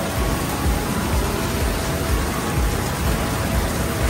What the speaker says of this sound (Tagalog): Lakas ng ulan o.